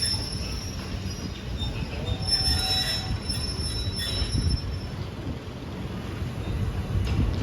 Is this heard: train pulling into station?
yes